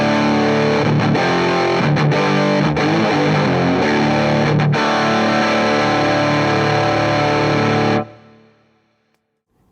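Heavily distorted electric guitar through a Wampler Ratsbane distortion pedal, toggle switch fully right, rings out in thick sustained chords with a few brief breaks, then cuts off abruptly into a fading tail.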